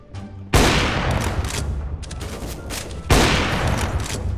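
Two loud gunshot bursts from CS:GO, the first just after the start and the second about two and a half seconds later, each a sharp blast that decays slowly, with no talking.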